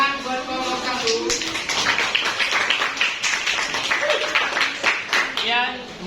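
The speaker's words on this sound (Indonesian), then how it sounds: "Tepuk tangan buat kelompok 1." Clapping for a student group after a classroom presentation, mixed with voices that talk over it throughout.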